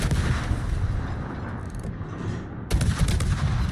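Tank gunfire in a naval and armored combat video game: a heavy, booming shot bursts in partway through, over continuous dense rumbling battle ambience.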